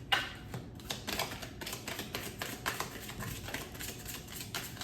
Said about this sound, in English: I'm trying a new way of shuffling